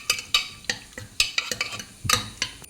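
Boiled potatoes and carrots being mashed in a pot, with a rapid series of sharp metal-on-pot clacks and soft squishes in an uneven rhythm, close and alone.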